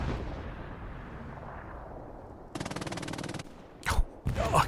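MG42 machine gun fire in Hell Let Loose, a long rapid burst of evenly spaced shots, then two heavy booming blasts, close and loud.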